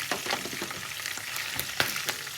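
Fish sizzles and crackles steadily in a hot frying pan, a close, moderately quiet frying hiss with small pops and no talking.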